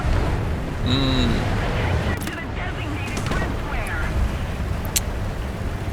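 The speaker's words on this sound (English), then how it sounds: "This explosion on the right is not looking too good." Gunfire and explosions from tank combat in the game War Thunder, realistic battles with a German Tiger II (P), sound as a dense continuous rumble of shots and blasts, with a sharp crack near the end and a faint voice underneath.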